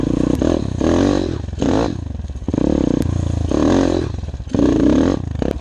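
A stock 190 cc enduro motorcycle with 22 horsepower, its engine running close by and revving in repeated surges that rise and fall, with clattery mechanical noise between the pulls.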